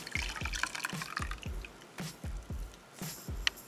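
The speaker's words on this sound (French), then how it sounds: "je rince mon visage." Water splashing and dripping as a face is rinsed during a facial skincare routine, coming as a steady series of close, wet splashes about twice per second.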